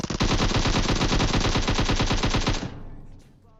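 A rapid automatic burst of gunfire in PUBG Mobile rattles loud and continuous for about two and a half seconds, then cuts off into a brief fading tail.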